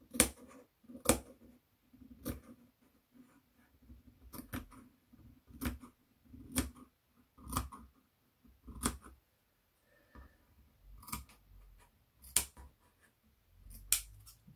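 Sharp sewing scissors trim the fabric seam allowance close to a stitched neckline seam. About a dozen crisp, close snips come at an uneven pace over a quiet room, with no talking.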